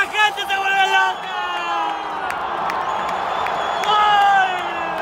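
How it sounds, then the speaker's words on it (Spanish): A football stadium crowd roars after a Cruz Azul error leads to a goal, a dense, loud wall of cheering with whoops and shouts swelling and surging throughout, with voices yelling close by. "¡Y la gente se vuelve loca!"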